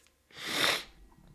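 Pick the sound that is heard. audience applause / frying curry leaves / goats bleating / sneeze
sneeze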